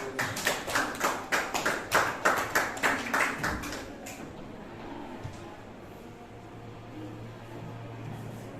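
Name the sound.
audience applause after presentation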